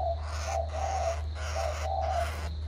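A male spotted dove cooing in a repeated rhythmic series of soft, hollow calls over a constant low hum.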